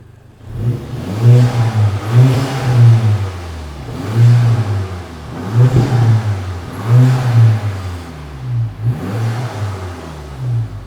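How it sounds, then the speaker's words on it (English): A Mk6 Golf GTI Edition 35 with an upgraded exhaust revs repeatedly in five or six strong surges, each climbing and falling back, with a deep, throaty exhaust note close by. "It's warmed up, let's have a listen."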